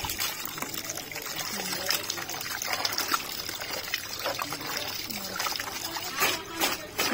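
Water splashes and trickles steadily over fresh sacrificial meat as it is rinsed by hand in a rural kitchen, a continuous close wash with occasional louder gushes.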